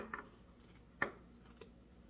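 Scissors snip at the heel of a craft piece in a few quiet, sparse cuts, one crisp clip standing out among fainter ones in a hushed room.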